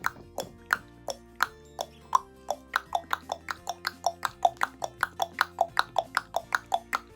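A long run of sharp tongue clicks in a steady, rhythmic clip-clop pattern, mimicking a trotting horse, loud and close with no talking.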